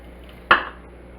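A single crisp, brief cut of a very sharp knife gliding down an ear of corn, shearing the kernels off the cob for fried corn, close up and fairly quiet against a low room hum.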